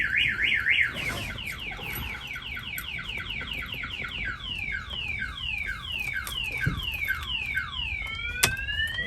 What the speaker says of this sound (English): if somebody opens the door, the alarm's gonna fire off